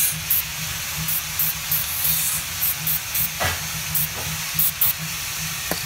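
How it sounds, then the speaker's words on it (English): Lubricant sprays inside the front strut of a 2005-2010 Jeep Grand Cherokee, making a series of short, repeated hissing bursts over a constant background hiss. "I'm gonna put a little lube here on the inside in case I gotta take this apart again."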